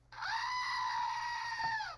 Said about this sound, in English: It's my screaming goat, Gerald.